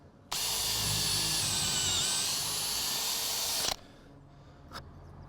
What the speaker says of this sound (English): Drill goes in.